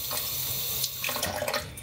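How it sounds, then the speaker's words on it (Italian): Water running from a kitchen tap into lemon juice in a glass or jug, a steady close splashing stream with small bubbling spatters throughout. "adesso buttiamo la fine del succo di limone con dell'acqua qua"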